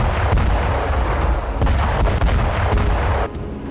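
Artillery and rocket fire pounding Ukrainian positions on the Zaporizhzhia front, heard as a dense, continuous rumble of booms and cracks that stays loud throughout, with a slight drop near the end.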